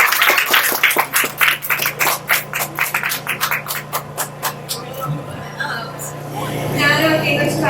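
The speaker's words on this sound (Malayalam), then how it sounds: "ആ ലുക്കിനൊരു കയ്യടി കൊടുത്തേ." A group claps in a quick, steady burst of applause at a traditional night celebration, fading after a few seconds into background murmur.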